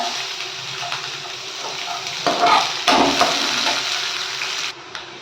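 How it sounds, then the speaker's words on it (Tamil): Onion frying in a pan for semiya bath, a steady sizzle that swells louder for a couple of moments midway as it hits the hot oil, then settles back to a constant hiss before cutting off near the end. "இப்போ ஆனியன் சேர்த்துக்கலாம்."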